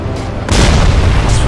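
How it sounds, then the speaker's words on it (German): Explosion destroying a train wagon at a tunnel entrance in the video game Crysis, a single heavy boom that bursts out loud about halfway through and rumbles on to the end, with game voices underneath. "Mike, schieß auf die Tunneleinfahrt und putz den Waggon weg"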